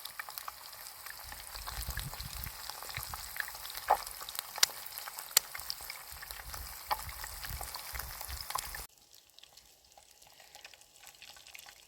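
An egg fries over a campfire in the open, steady crackling sizzle with sharp pops scattered throughout, fairly close, then dropping abruptly to a quieter hiss near the end.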